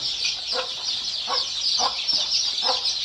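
A native village hen clucks in short, evenly spaced notes while a steady chorus of high peeping chicks continues close by.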